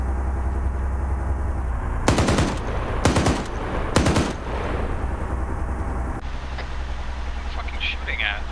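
Bursts of machine-gun fire in a military video game come in three short rapid volleys over a steady background rumble, with a voice talking briefly near the end.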